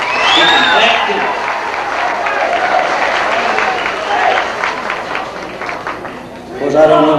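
Applause and clapping from a crowd at a 1988 wedding celebration, a continuous patter of hands with talk and voices mixed in and a louder voice rising at the close.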